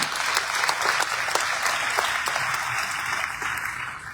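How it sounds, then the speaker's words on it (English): A crowd applauds steadily at the South African election results announcement, dense clapping from many hands that holds at an even level throughout. "we applaud you as we hereby do"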